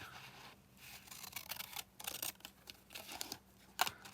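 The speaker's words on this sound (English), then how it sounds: "Using a scallop scissors." Scallop-edge scissors cutting through paper make a series of short, close, quiet snips and crisp paper rustles in an uneven rhythm.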